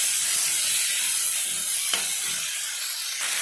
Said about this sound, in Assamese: লগতে এতিয়া উৰহীৰ গুটি আৰু মটৰখিনিও ঢালি দিম। গোটেইখিনি মিক্স কৰি লৰাই দিম।